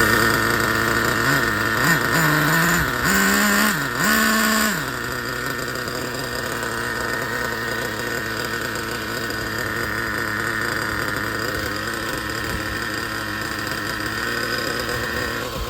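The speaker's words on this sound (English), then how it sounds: "This is possibly a brand new engine that they're still breaking in." A small nitro engine in a Traxxas Slayer RC truck, likely new and still being broken in, runs steadily and loud, with a few revving surges early on before settling into a constant buzzing idle.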